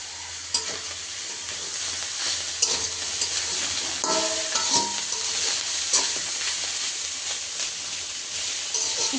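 Spinach and potatoes frying in a pan with a steady sizzle, broken by repeated scraping and clattering of a spoon as the mixture is stirred, close and alone.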